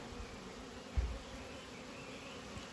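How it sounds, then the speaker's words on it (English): Honeybees crowding a busy hive entrance in a bee yard, a faint continuous buzzing drone with a brief bump or knock partway through, no talking. "As you can tell, that's a lot of bees trying to get in"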